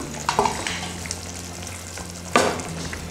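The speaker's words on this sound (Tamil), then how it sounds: "இதை கொஞ்சம் தண்ணி சேர்த்து கலந்துக்கலாம்" A spoon scrapes and stirs through bubbling onion gravy with added water in a pan, with a couple of louder clanks and a soft simmer underneath.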